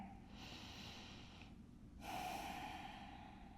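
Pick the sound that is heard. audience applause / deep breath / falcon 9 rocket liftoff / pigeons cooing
deep breath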